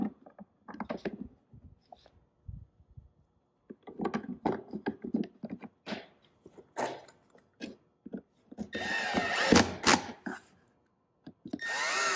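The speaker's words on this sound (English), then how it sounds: "I'm using like just a little tiny Milwaukee little drill here" A small Milwaukee cordless drill whirs in short bursts with pauses between, close and moderately loud, ending in a longer, harsher run.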